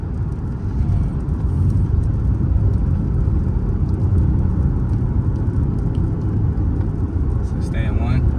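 A Genesis 5.0 car engine floored in first gear during road tuning, a loud, steady low roar that holds strong throughout with no clear gear change, heard close with faint background noise.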